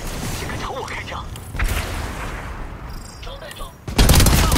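Gunfire rings out in a first-person-mode shooter video game, with scattered shots through the clip and a loud burst of fire near the end, mixed with a voice speaking.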